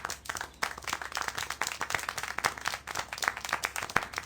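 Cinematic audience applause in Syberia: The World Before: a small group of patrons claps in a quick, irregular patter, fairly faint and steady throughout, with no speech over it.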